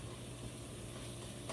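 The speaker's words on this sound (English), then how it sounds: "once we see the meat is getting kind of dark brown, you just let it sit there for a while so that it can get fried" Meat frying in a pan for a Peruvian lentil stew, a steady close sizzle with crackle running throughout, no talking.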